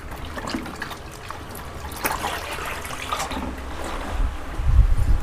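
Water in a Wantek dye bath, heated without boiling and topped up with about a liter of water, sloshes and swirls steadily as it is stirred, with a rougher, louder churn near the end.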